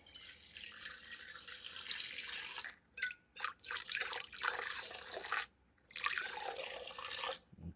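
Ethanol poured into a metal bowl, a steady splashing, trickling stream running continuously, broken by two short pauses before pouring resumes.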